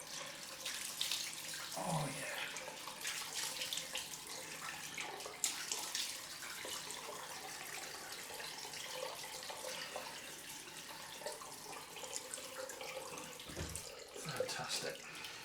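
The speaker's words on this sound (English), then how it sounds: "Get that cloth under the cold water as well." A bathroom tap runs cold water for a post-shave rinse while a cloth is held under the stream, a steady close splashing flow with brief handling sounds and a short spoken remark.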